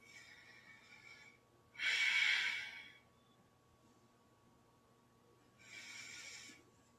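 Slow, deep yoga breaths come through as two long, airy exhales a few seconds apart, the first louder than the second, close by in a quiet room with a faint steady hum underneath.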